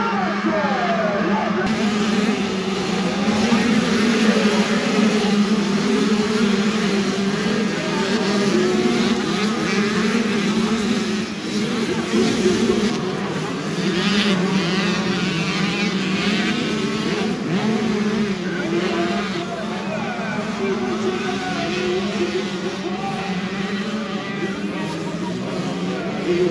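A pack of 65cc motocross bikes roars off the start together, a dense, buzzing swarm of small two-stroke engines revving hard and continuously at close to middle distance, with occasional shouts mixed in.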